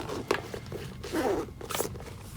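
Waterproof zipper being pulled open on a hard pistol carry case, a few short raspy zip strokes close by, fairly loud with no talking.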